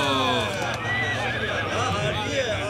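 A horse neighs loudly with a long wavering whinny while hooves clip-clop beneath it, close and continuous, with voices mixed in as a rider claims no one can match his horse in a Mongol horse race.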